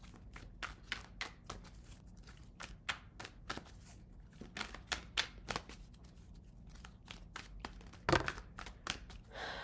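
Cards are shuffled again and again in quick riffling bursts, each a crisp flutter of paper. The shuffling is close and soft, with short gaps between bursts, and no one speaks.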